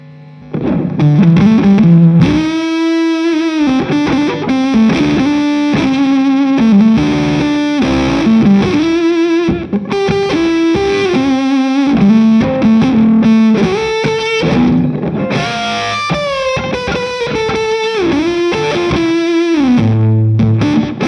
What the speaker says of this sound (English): Put the fuzz on here, let's go for silicon.